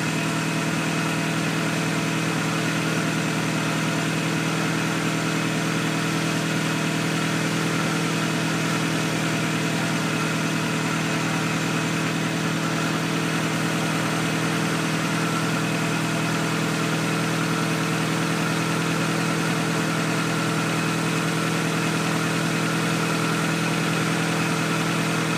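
A 2001 Toyota Camry with the 2.2-litre four-cylinder engine idles steadily, a constant close mid-pitched hum with an even, unbroken rhythm and no talk.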